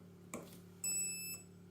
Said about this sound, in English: Now it should probably give me a beep, maybe, or light up